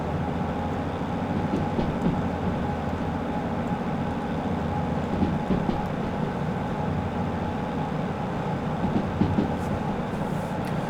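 A small locomotive hauls a consist in the train simulator Derail Valley, its steady rumbling drone running continuously with faint rhythmic rail clacks, no voices over it.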